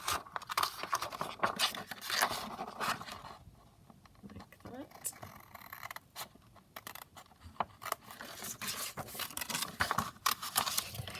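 Scissors snip down a piece of printed digital-kit paper for a quick craft, giving short crisp cuts in uneven bursts close to the mic while a person talks over them.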